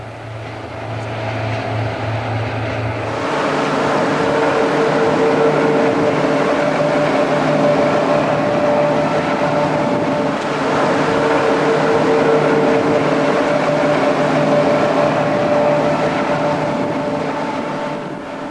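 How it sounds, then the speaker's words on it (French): X2700 diesel railcars running in multiple units of three on a steep mountain climb, a loud sustained engine drone with a steady hum that swells after a few seconds and holds. "les trains sont renforcés et les RGP roulent en unités multiples de 3 éléments."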